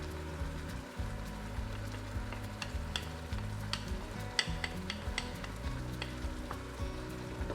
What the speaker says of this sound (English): Okay, mix that in with the meat.